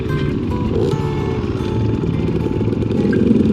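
A 2012 Husqvarna 300 dirt bike engine running nearby on a high-country Colorado trail, a loud, steady buzzing drone with slight shifts in pitch as the throttle changes.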